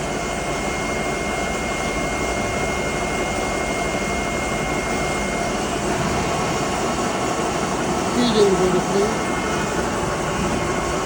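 A 48-inch Webster & Bennett Model M vertical boring mill turns at about 31.5 RPM with its turret slide feeding, a steady loud industrial drone and hum throughout, with a faint voice briefly near the end.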